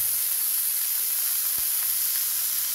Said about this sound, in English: meat sizzling in the pan